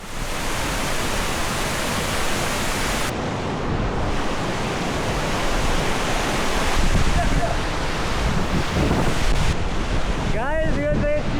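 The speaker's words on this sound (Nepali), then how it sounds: "यो चाहिँ चिलाउने झरना" Rushing water at the Chilaune waterfall in Nuwakot, Nepal, makes a continuous loud roar, with wind buffeting the microphone and a brief tonal sound near the end.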